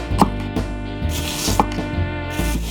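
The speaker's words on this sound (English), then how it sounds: "First, finely chop the chili peppers." Chili peppers being finely chopped with a knife on a cutting board, giving close, crisp, evenly spaced thuds at a steady unhurried rhythm with no talking.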